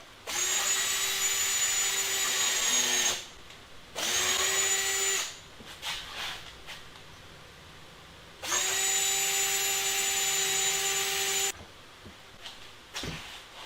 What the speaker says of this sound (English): I'm using a drill tap, so it's got the threads in it. Just drill it right in.